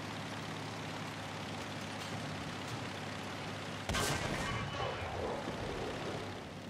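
A BMP-1 infantry fighting vehicle in War Thunder fires its cannon once, a sharp, loud blast breaking through a steady engine rumble and fading into a brief rolling tail.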